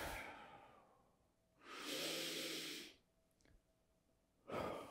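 Heavy breathing from someone doing deep kettlebell squats in a leg workout: two long, loud breathy exhales separated by quieter gaps, with another strong breath starting at the end, close to the listener with no talking.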